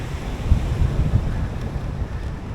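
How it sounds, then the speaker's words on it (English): Strong wind buffets the microphone on a beach at the northern end of Praia de Seixas, with a low rumbling roar of surf beneath it and irregular gusty thumps throughout, no speech. "It's windy."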